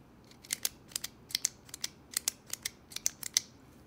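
A metal Parker Jotter XL ballpoint pen clicks repeatedly up close, sharp crisp double clicks in a quick irregular rhythm over a quiet background.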